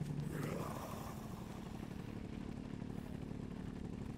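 Motorcycle engine idling in the zombie survival game Night of the Dead, a steady close low rumble with a brief rising rev at the start, then settling into an even idle.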